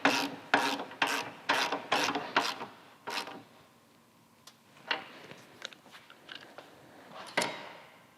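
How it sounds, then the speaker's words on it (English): Ratcheting wrench tightening the top shock mounting bolt of a Harley Softail during an RWD RS-1 monoshock installation, torqued to 90 foot-pounds: a series of about seven quick, close, evenly spaced raspy clicks, followed by scattered softer taps and one final click. "I'm gonna run this in and torque it down to 90 foot-pounds"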